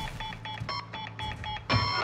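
A countdown timer in the Call of Duty Modern Warfare raid mode beeps in a quick, regular series of sharp electronic tones, ending with a louder, denser burst of beeping.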